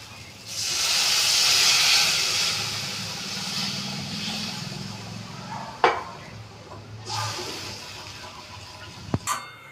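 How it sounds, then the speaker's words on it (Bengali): Water hits a pan of frying spice paste for a potol curry, bursting into a loud hiss and sizzle that slowly fades, followed by a few sharp clinks of a utensil against the pan. "এবার জল দিয়ে দিচ্ছি।"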